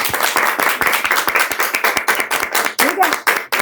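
An audience claps in a farewell send-off, with dense, continuous applause and sharp individual hand claps throughout, loud and close.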